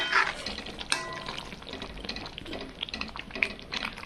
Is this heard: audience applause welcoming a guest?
no